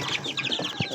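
Several chicks for sale cheep and peep close by in a rapid, continuous chatter of high twittering calls, with one louder chirp near the end; no talking.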